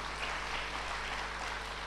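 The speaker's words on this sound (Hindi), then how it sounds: "ताली" An audience claps at a spiritual talk, giving a dense, even wash of applause that lasts throughout without pause.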